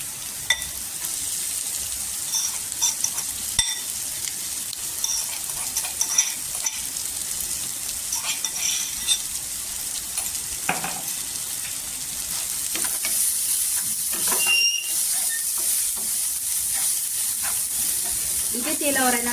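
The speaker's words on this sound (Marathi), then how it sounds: "इथे तेलावर आहे ना 2 मिनिटं परतायचं." Crushed cluster beans for a thecha frying in oil over golden onions, giving a loud continuous sizzle and hiss with occasional stirring scrapes and clinks throughout.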